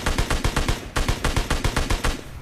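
Automatic gunfire in PUBG Mobile Lite, two quick bursts of evenly spaced shots, loud and close with a brief pause between them.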